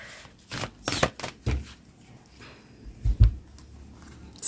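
Tarot cards being shuffled during a reading, giving irregular bursts of crisp riffling and slapping close by, broken by short pauses.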